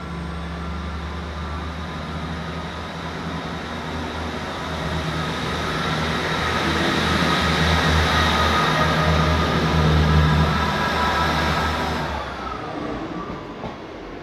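Class 158 diesel multiple unit 158787 at Lincoln Central station gives a continuous engine and rail rumble that swells slowly, peaks near the end, then eases off, with no voices.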